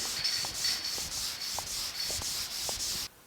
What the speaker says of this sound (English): So I'm going to keep sanding this real quick